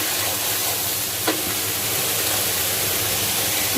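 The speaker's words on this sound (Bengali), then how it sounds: "চালটা একটু ভালোভাবে ভেজে নিব, হালকা লাল হবে" Washed rice toasting in a hot pan for shahi pulao, a loud, even dry sizzle with a single brief scrape near the middle.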